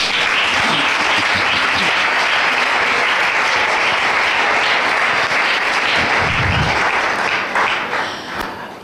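A church congregation applauds loudly and continuously, a dense wash of clapping that holds for about eight seconds before starting to fade at the end.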